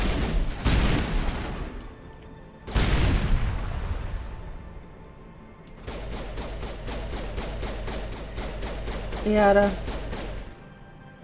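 Gunfire from Mass Effect Legendary Edition comes as two heavy bursts early on, then a rapid, evenly spaced string of shots for several seconds, with a brief spoken word near the end.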